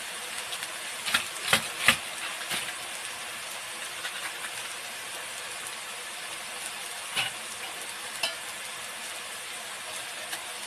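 Ginger and garlic fry in a pan with a steady hissing sizzle, punctuated by a few brief louder crackles and spatters.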